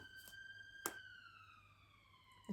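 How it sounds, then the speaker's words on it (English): A siren sounds outdoors at a distance, its steady high wail sliding slowly downward in pitch, faint and alone apart from a couple of brief knocks. "There's another siren."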